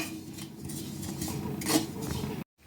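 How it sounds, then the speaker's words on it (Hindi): Grated coconut stirred continuously as it dry roasts in a pan, a steady scraping and clinking of spoon against metal running near and loud for over two seconds, then cutting off abruptly. "तो इसे लगातार चलाते हुए थोड़ा सा भून लीजिए।"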